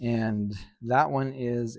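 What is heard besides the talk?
No everyday noise stands out behind the speech.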